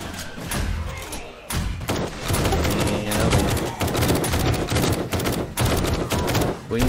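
Dense, continuous gunfire as a four-player co-op team fights off a zombie horde in 7 Days To Die, with rapid overlapping shots and thuds over about seven seconds and some voices in the mix.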